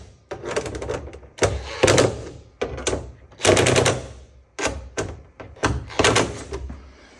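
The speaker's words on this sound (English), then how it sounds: "I have the ratchet on super low. I'm going around, tighten all these babies up" A ratchet tightens bolts on hood vents of a Jeep XJ, heard as bursts of quick clicking and clattering separated by short pauses, close up and fairly quiet.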